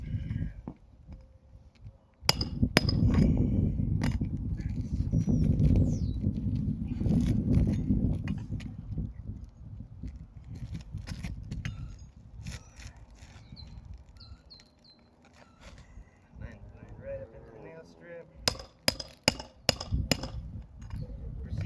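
Nails are hammered one after another along a nail strip on weathered, delaminated fiberglass, giving sharp nearby knocks in bursts with pauses between them over a continuous outdoor rumble.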